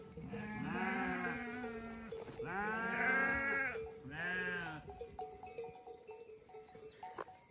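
Sheep and lambs bleat in three long, loud wavering calls close by, the flock of two ewes and three lambs then falling quieter amid faint farmyard clatter.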